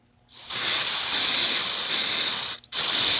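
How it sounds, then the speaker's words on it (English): Aerosol cleaner sprayed onto the electronics of a 1992 Epiphone Accu Bass: a loud, close, steady hiss lasting about two seconds, a brief break, then a second burst of spray. "I'm gonna spray this down."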